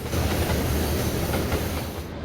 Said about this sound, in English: Colton went by with a freight train bound for Allentown, Pennsylvania.